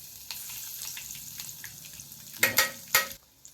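Mustard seeds, cumin, turmeric and ginger paste fry in two tablespoons of oil in a pan, a soft continuous sizzle broken by a few sharp, louder crackling bursts toward the end.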